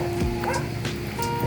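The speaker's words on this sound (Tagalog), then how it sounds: "Maraming aso." Several dogs bark in quick succession outdoors near an old house, the short yips overlapping with a steady background hum and some faint voices.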